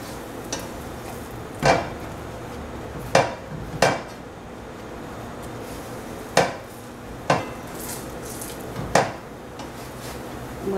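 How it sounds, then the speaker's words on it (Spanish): Birote bread browning in a pan for chicken mole, with sharp intermittent clinks and scrapes of a utensil against the pan over a steady low frying hiss, about seven distinct knocks spread irregularly. "Vamos a dorar el birote."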